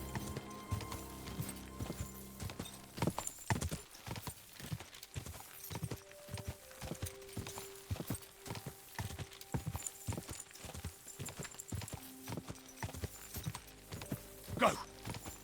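Horse hooves clip-clop in a steady trotting rhythm while riding in Kingdom Come Deliverance 2, fairly faint and continuous, with occasional tack rattles and a short snort near the end.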